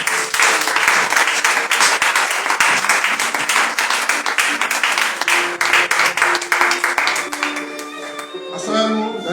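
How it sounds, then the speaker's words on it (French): A congregation applauds for the Lord at a French-language evangelical novena service, dense continuous clapping that fills the room, loud and close, easing off near the end as a few instrumental tones come through. "Applaudissons pour le Seigneur"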